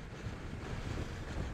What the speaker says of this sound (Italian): C'è un vento assurdo